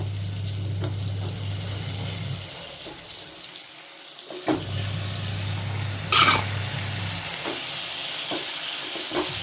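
Marinated chicken drops into a hot pan. A low hum and running-water hiss give way to a louder, brighter sizzle midway, with a few soft clinks and no voices.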